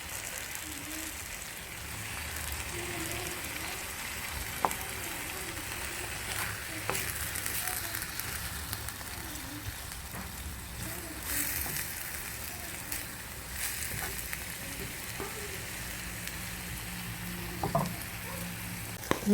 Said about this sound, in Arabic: هنا دابا غادي نحرك باش تهبط البصيله حتى هي تشحر